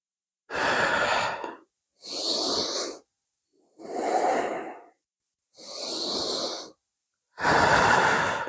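Slow, deep breaths during a yoga sun salutation variation: five long, close, airy exhalations and inhalations, evenly spaced with silent pauses between them.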